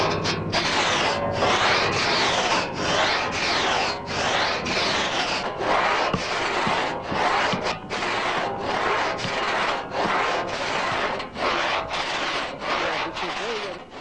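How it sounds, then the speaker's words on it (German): A two-man pit saw cuts lengthwise through wood by hand in steady back-and-forth strokes, each rasping pass clearly separated, close and continuous, with a voice speaking faintly underneath. "Bis die Säge im Schnitt Führung gewinnt, muss sie sehr behutsam betätigt werden."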